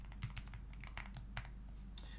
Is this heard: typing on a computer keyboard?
yes